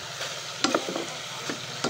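Garlic sautéing in a hot pan gives a close, steady sizzle, with a few sharp scrapes and clacks of a utensil stirring it.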